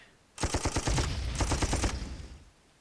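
Panzer tank attacking in the wartime strategy game Panzer Corps: two loud bursts of rapid, evenly spaced gunfire-like blasts, each lasting about half a second, played alone with no talk.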